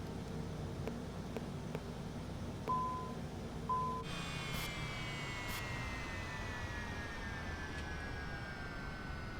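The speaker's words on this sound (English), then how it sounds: "Let's go ahead and shut off these engines here." A Cessna Citation CJ3+ jet's engine hum winds down in a flight simulator game, its whine sliding slowly lower in pitch after a couple of beeps and clicks, fading to a quieter steady drone.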